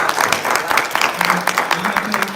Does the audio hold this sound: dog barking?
no